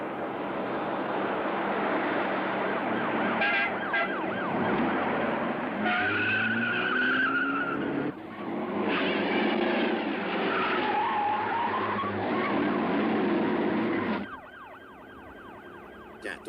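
A car speeds and skids with tires squealing, engine roaring loudly up close, and a siren wailing behind during a police chase in a 1984 comedy film, with bursts of screeching and a quieter stretch at the end.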